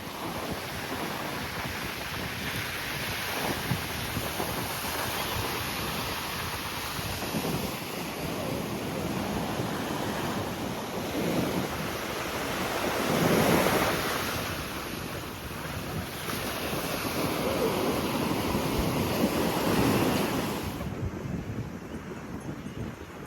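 Sea waves roll in at Marina Beach, Chennai, a continuous surf wash that swells and eases over about twenty seconds, heavily buffeted by wind gusting across the microphone, with no speech.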